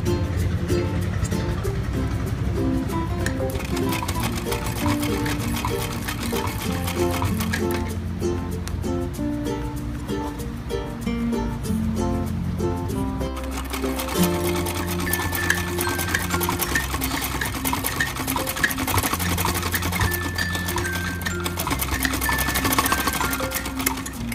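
A sewing machine stitches piping along a designer kurti with a loud, continuous whirring rattle. The motor pace shifts in short bursts and pauses over roughly twenty-four seconds.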